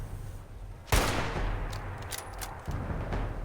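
A loud burst of gunfire from the video game Fallout 76, one sharp blast followed by a rolling, decaying rumble with scattered lighter shot cracks and a second thump near the end, no talking.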